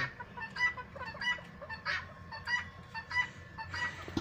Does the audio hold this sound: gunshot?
no